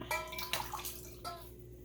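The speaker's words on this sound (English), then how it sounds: "So now we're going to take 1/2 cup of this water." Half a cup of water being poured, likely into a container with sugar in a home kitchen, a brief splashing trickle lasting under two seconds with faint background tones.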